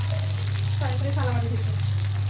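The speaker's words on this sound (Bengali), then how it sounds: "সুন্দর হয়েছে মাছ ভাজিটা" Fish sizzles steadily in hot oil in a pan, a constant close frying hiss with a low hum beneath, and brief faint voice-like tones surfacing midway.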